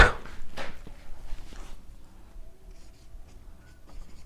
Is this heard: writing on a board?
yes